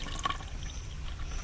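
Water trickles and pours for homemade fruit popsicles made in a village, a steady liquid splash at close range that fills the short stretch with no talk.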